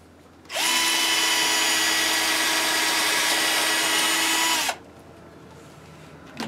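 A power drill whirs loudly and continuously for about four seconds as it drives a screw into wood in an old 1901 barn, then stops abruptly, leaving quiet room tone.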